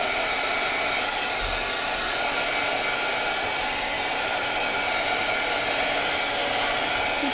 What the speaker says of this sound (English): Not blow dry, but this is my heat gun.